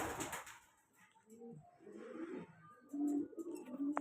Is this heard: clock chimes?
no